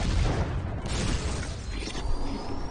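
Rocket launcher blast in the video game Postal 2: a dense, roaring explosion with heavy low rumble and crackling debris that stays loud and steady for under three seconds.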